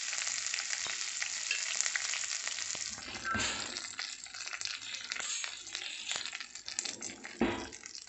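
Chopped curry leaves hitting hot oil in a pan, giving a steady loud sizzle and crackle with a few sharper spits and stirring sounds, close and continuous.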